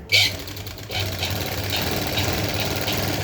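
A sewing machine runs a straight line of stitching on a designer blouse, a steady close mechanical whir following a brief click at the start, with a voice briefly present.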